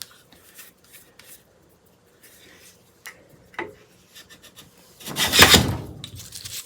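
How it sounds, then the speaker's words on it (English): An 1890s Goodall iron hand plane shaves wood: a few quiet taps and scrapes, then one loud, rasping stroke as the blade cuts a shaving near the end. "But I am getting a shaving. Take it even deeper."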